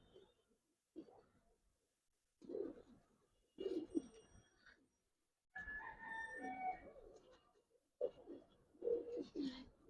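Giribaz pigeons coo in several soft, separate bursts close by, with quiet pauses between, and voices mixed in among the calls.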